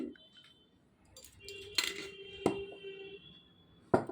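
A metal spoon clinks against a container while pure chickpea sattu (gram flour) is added for a drink. Three sharp, ringing taps sound close by, with quiet scraping between them.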